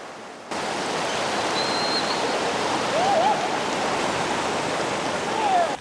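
Steady broadband rush of river water flowing along the Donggang beneath steep cliffs, a continuous close wash with faint bird calls above it.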